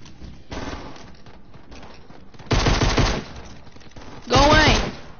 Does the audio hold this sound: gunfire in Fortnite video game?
yes